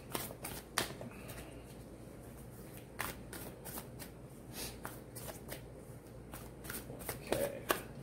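Animal oracle cards are shuffled by hand during a reading, giving a series of soft, close riffles and card flicks in irregular bursts over a quiet background.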